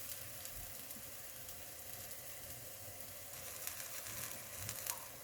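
A savoury chickpea-flour pancake frying in a pan gives a soft, steady sizzle throughout, faint and close, with small crackles toward the end.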